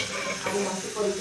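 Poha stirred in a pan, a close, steady sizzle with scraping of the spoon through the frying flakes, continuous and fairly loud.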